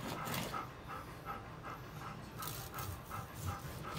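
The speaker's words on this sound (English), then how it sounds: "Hey dog, shut up." A dog pants and whimpers close by during a backyard tri-tip cook on a Weber kettle grill, with quick rhythmic breathing and faint whines and no voices.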